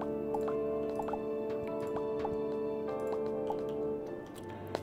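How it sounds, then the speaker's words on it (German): Water drips from a shower head in the Starbound video game, a steady run of small plinks over a droning game ambience, with no voices. "Hier ist sogar ein Tropfen, ne?"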